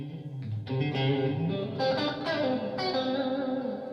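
Chapman electric guitar drenched in reverb, a few sustained chords and ringing notes blooming and overlapping in a wash of echo, steady and fairly loud with no voices.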